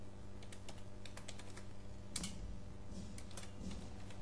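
Steady, fast typing on a computer keyboard while writing C# code, with dense, even clicks that run throughout and a sharper clack of a key near the middle, heard alone without any talking.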